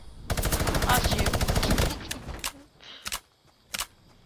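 Rapid automatic gunfire in a playground 1v1v1v1 video game match, a fast close burst lasting over a second, then a few scattered single shots and clicks trailing off.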